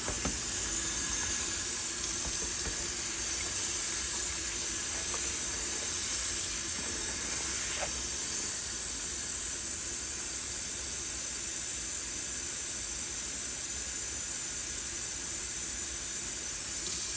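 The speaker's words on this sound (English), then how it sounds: "Use this same bowl to catch some water." Continuous hissing stream of tap water pouring into a bowl, steady and close for the whole stretch, with no voices.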